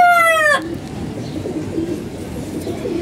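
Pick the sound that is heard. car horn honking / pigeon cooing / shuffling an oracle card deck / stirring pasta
pigeon cooing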